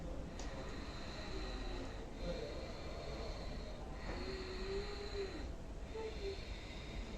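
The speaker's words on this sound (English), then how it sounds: "just a hissing sound from your mouth and from your throat" Steady, breathy Ujjayi breath hissing from a constricted throat, drawn out in slow inhales and exhales with no talking.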